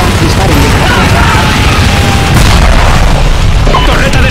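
A turret explodes in the zombie escape mod of Counter-Strike GO, a loud, dense wall of booming blast noise and crackling debris that rumbles on steadily without a pause.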